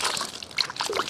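Water pours and trickles onto newly planted rose plants in a garden, a short, close splashing and dribbling.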